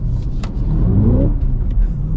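A 2026 Cadillac CT5-V Blackwing with a manual gearbox accelerating hard, a loud low engine rumble rising in pitch as it revs up, then settling into a steady drone, heard from close by.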